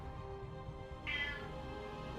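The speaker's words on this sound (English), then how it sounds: "Oh, my cat being noisy again." A house cat lets out a single short meow midway through, fairly faint against a quiet indoor background hum.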